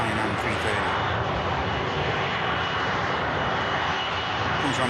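Hainan Airlines Airbus A330 jet taxiing close past at Manchester Airport, a loud, steady engine roar with broad rumble and hiss holding at near-constant level throughout.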